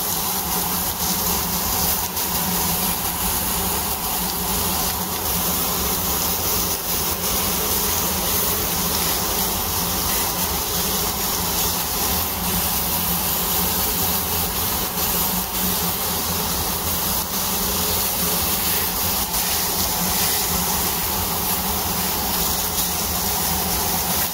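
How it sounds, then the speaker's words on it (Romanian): A gas stove burner runs under a grill pan on a kitchen cooker, giving a loud, steady hiss that continues unchanged throughout, with no voices over it. "Dau drumul la foc."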